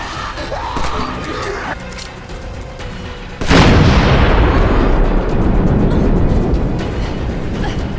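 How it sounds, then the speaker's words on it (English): Barrels ignited by a flare gun in the video game Dead Island Riptide burst in one loud, sudden boom, followed by a long roaring rumble of fire and debris after a quieter stretch of game ambience. "I heard the explosion."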